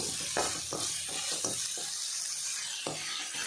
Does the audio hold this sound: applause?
no